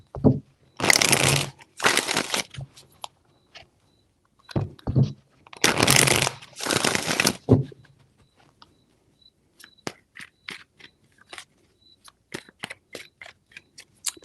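Tarot cards being shuffled by hand, several loud riffling bursts close up, a pair early and a pair midway, followed by scattered light taps and card clicks, with no talk.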